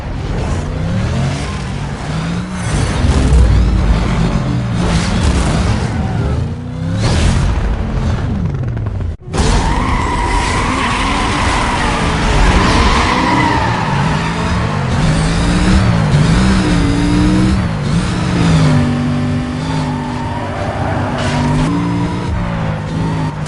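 A street race in the video game Need for Speed Most Wanted, with loud car engines roaring and revving throughout, a sudden cut partway, then continued engine drone and tire noise under game music and effects.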